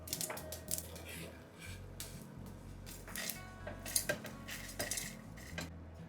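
A spoon scrapes and clinks against a pan as roasted dry red chillies and tamarind are moved into a mixer jar, making irregular close metallic taps and scrapes.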